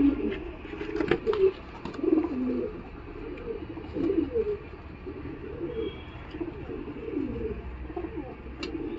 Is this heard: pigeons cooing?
yes